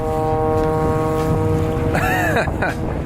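A long vessel near Pier 5 in New York sounds its horn, a sustained, steady tonal blast with layered harmonics that holds for about two seconds, followed by a brief rising, wavering tone as wind and harbor noise continue underneath.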